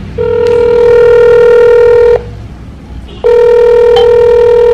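A telephone ringing on a call, two loud electronic ring bursts, each about two seconds long and separated by a short pause, close and clear.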